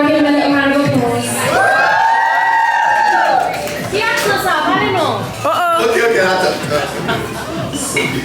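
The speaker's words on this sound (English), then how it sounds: "Everyone give him a little round of applause." A crowd cheers loudly, with whoops and excited shouting voices layered over scattered clapping that stays close and sustained throughout.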